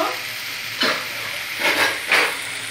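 Boiled noodles fry in a pan as cooked rice is added, a constant sizzling hiss broken by three louder bursts of stirring and tossing.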